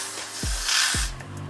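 Hair spray mists onto the edges of a wig in a bald cap install, a soft broadband hiss swelling through the middle of the short clip with low thumps at either side.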